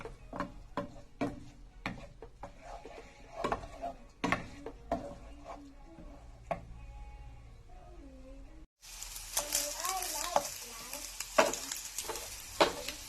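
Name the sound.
scrambling eggs in a pan with a big spoon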